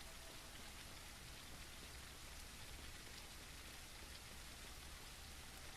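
Steady rain pattering in the survival video game SurrounDead, a faint, even hiss of drops on surfaces with no talk over it.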